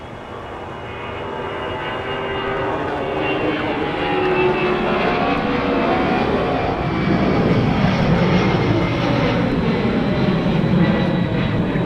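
An airliner takes off at Minneapolis airport on a winter day. The engine roar builds steadily and stays broad and loud throughout, with no voices over it.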